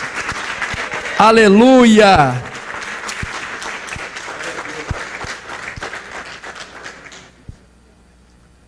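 A church congregation claps loudly during a Thursday service, steady applause running for several seconds while a preacher shouts over it and a sung exclamation rises briefly, before the clapping thins and stops.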